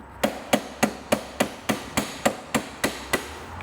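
Eleven sharp metallic taps struck at a steady, even rhythm, close and fairly quiet, a hammer knocking on an Allen key while fitting a windshield to a Vespa Sprint scooter.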